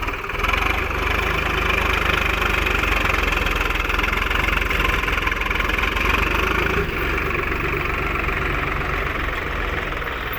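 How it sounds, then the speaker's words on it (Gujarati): A farm tractor, just started after being stuck, runs at a steady idle with an even, rumbling chug that holds loud and unbroken throughout, with no one talking. "તો અમારે કાંતિભાઈ ટ્રેક્ટર ચાલુ કર્યું છે,"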